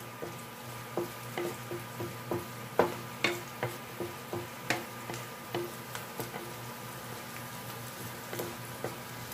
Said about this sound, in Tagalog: Haluin lang natin hanggang medyo mag konting golden brown siya.